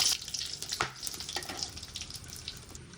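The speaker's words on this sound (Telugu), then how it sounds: "ఇప్పుడు అలాగే ఎండుమిరపకాయలు వేయించుకుందాం" Dried red chilies fry in hot oil with a continuous soft hiss and crackle, punctuated by a few light clicks of stirring close by.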